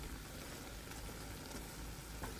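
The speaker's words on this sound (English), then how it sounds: "So we're gonna stir this up, right?" Korean spicy chicken in a pear-sweetened sauce sizzles and bubbles steadily in a pan as it is stirred, a dense, even frying hiss running unbroken throughout at moderate level.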